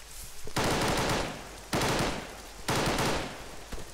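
Automatic gunfire in ARMA 3, three long loud bursts of rapid fire separated by brief pauses, close and harsh with no talk over it.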